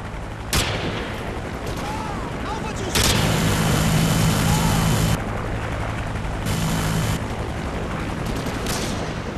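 A Hind attack helicopter in a video game flies in, its rotor drone steady and loud beneath bursts of gunfire and sharp impacts, with radio-style voices talking over the battle.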